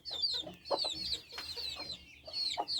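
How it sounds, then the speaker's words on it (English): Chickens cluck and chatter in a backyard coop with chicks about, a series of close, lively bursts of hen calls overlapping across the whole stretch. "And the chicks, they just run around also."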